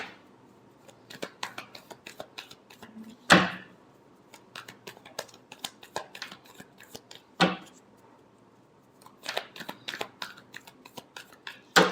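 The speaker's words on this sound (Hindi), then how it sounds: "Last shuffle." Tarot cards being shuffled by hand, with crisp flicking riffles in short bursts and a few sharper slaps as the deck is squared, close and quiet with no talking.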